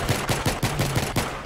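Rapid video-game gunfire with a manual gun, close and loud, with about eight shots in a quick, even rhythm and no talking.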